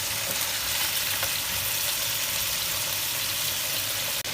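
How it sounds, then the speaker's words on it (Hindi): Chicken frying in oil in a pot for dum chicken gravy: a loud, dense, unbroken hiss of sizzling fat, close up and steady, with one faint knock near the end. "अब इसी ऑयल के अंदर ये तकरीबन 4 से 5 मिनट के लिए होगा फ्राई"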